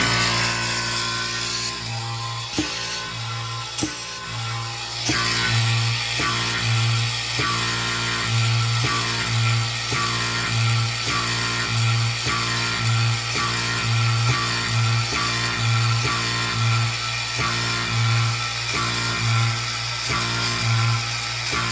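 A restored Bijur automatic oiler runs on vacuum with a steady rhythmic pumping and clicking, loud and close over a constant mechanical hum, repeating evenly for about twenty seconds.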